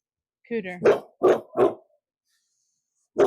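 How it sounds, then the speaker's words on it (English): A dog gives a quick burst of three or four sharp barks up close, then goes quiet before one more bark near the end. "That was your dog that was barking."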